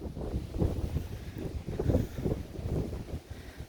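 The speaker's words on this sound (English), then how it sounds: "it's real windy." Strong wind buffets the microphone in rumbling low gusts that rise and fall continuously, loud and close.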